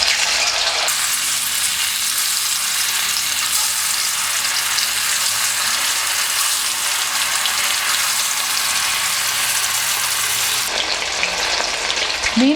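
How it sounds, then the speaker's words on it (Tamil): Small anchovies (nethili) fry in hot oil for a crispy fish fry, a loud, dense, continuous sizzle close up that holds steady throughout before briefly dropping near the end. "எண்ணெய் நல்லா சூடாயிடுச்சு. இப்போ நம்ம மீனை போட்டு எடுத்துக்கலாம்."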